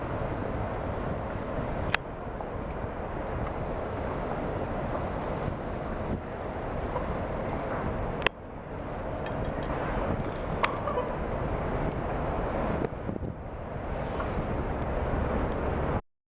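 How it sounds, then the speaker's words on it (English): Large Star Cruises cruise ship Star Libra docking at the George Town waterfront in Penang, heard as a steady low rumble of engines and water under continuous wind buffeting on the microphone, with a few sharp knocks. "And there is the Star Cruises Star Libra. It's a ship that's docking."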